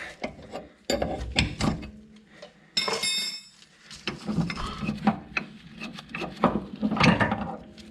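Ball joint press being backed off after pressing a pillowball bearing into a Mazda FD RX-7, heard as close, uneven mechanical clicks and ratcheting turns with brief gaps, no talk.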